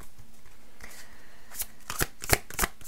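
Tarot cards are handled and drawn during a French-speaking reading: soft papery slides and flicks, then several crisp card snaps in quick succession near the end, close and fairly quiet.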